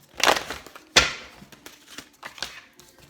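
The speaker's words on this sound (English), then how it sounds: "Let's shuffle." Tarot cards are shuffled by hand, giving two sharp riffling bursts and a series of softer card taps and slides close to the mic, with no talking.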